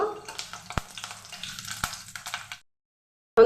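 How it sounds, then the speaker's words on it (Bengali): Panch phoron spices with dried red chilli and bay leaf fry in hot oil, giving a close, steady crackling sizzle with a few sharp pops and stirring scrapes before it cuts out briefly. "আর কিছুটা পাঁচফোড়ন এটা একটু ভেজে নেব"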